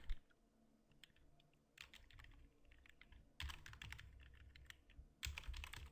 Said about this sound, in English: by typing for the header, just type in header,